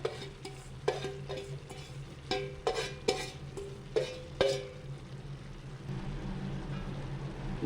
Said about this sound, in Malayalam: നമ്മൾ നന്നായി മിക്സ് ചെയ്ത് കൊടുക്കാം